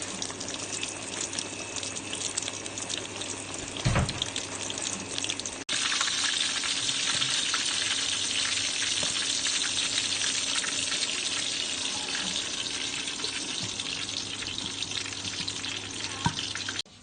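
Crispy pork fries in hot oil, giving a loud, constant hiss and crackle that continues throughout with a brief knock partway through.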